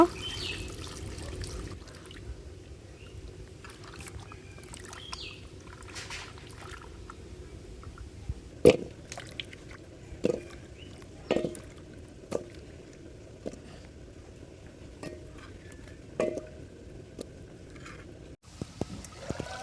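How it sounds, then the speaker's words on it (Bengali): Pumpkin pieces are washed in water, giving soft sloshing and dripping with scattered splashes and knocks against a bowl, fairly close and quiet, with no talk. "কুমড়োগুলো ধুয়ে নেব"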